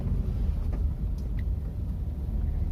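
Inside a Mitsubishi Xpander Ultimate on the move, a low, smooth rumble of road and engine noise stays steady and subdued, with no talk.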